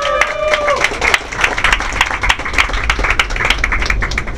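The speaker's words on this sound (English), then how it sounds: "is everyone giving a great big cheer for Adriel?" Crowd at the first annual Train Jam game jam clapping and cheering for a participant, steady lively applause with whoops and crowd noise, loud and close throughout.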